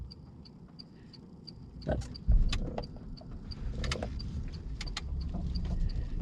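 Automatic-transmission car reverses slowly into a parking space, a low engine idle with a faint repeating tick and some clunks and rustles partway through, quiet throughout.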